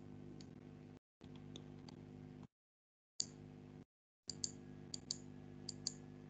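A computer mouse clicks a handful of times in sharp, quiet, irregular bursts, with short silent gaps between the clusters.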